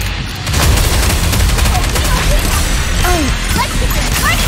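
Gunfire in the mobile shooter Goddess of Victory: Nikke during a boss fight, a loud, rapid stream of shots and crashing impacts that is sustained throughout, with speech mixed in.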